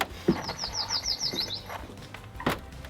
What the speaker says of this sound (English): Love the sound of the birds coming out.